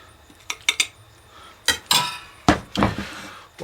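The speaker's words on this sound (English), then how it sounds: "I'm going to spoon some out onto a plate." Metal spoon scraping and clinking against a pan and plate while serving cheesy chicken taco rice, a handful of sharp separate scrapes and knocks, close and fairly loud with short pauses between.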